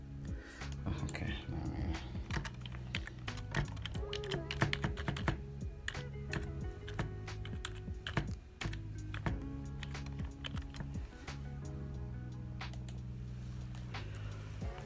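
Keys clatter as a password is typed on a computer keyboard, a close, irregular run of taps lasting about fifteen seconds under low background sound.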